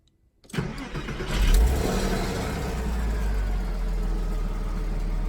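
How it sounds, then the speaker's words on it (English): A Porsche Boxster 986 with its stock exhaust cranks and fires up after a brief silence, catching quickly and swelling into a loud, steady idle with a deep low rumble close to the microphone. "Let's fire this up and see how she sounds with the stock system."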